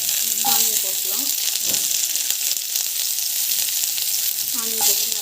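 Onions sizzling in a pan with chana dal, a dense steady frying hiss with occasional stirring scrapes, close and continuous throughout.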